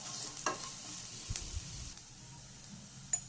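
Onions sautéing with salt in a pan give a soft, steady sizzle with a few brief stirring scrapes, moderately close and alone, no one speaking.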